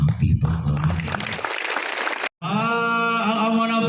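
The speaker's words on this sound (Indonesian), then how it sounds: "Tepuk tangan untuk Al-Amanah People malam hari ini." Hundreds of Islamic boarding school students applaud at an evening event, a dense burst of clapping under a speaker's voice, followed by a sustained tone after a brief cut.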